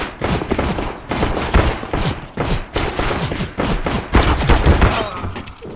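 Rapid gunfire in Counter-Strike, played on Linux through Lutris and Steam: dense, repeated bursts of automatic shots and thuds fill the whole stretch at steady loudness, with no break.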